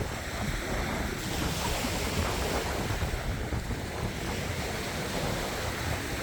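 Sea surf washing against the shore below a beach hut area, a steady broadband roar with wind buffeting the microphone throughout, no talking.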